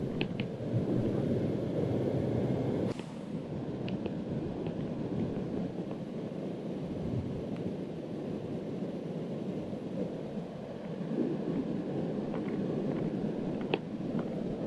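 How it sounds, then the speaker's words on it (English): Water rushes steadily under an old bridge at Bells Rapids on the Swan River near Perth, a constant broadband roar mixed with gusty wind buffeting the microphone. "A bit of water pumping through there."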